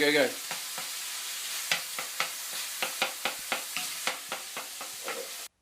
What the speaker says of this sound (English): it is not rain. That is frying.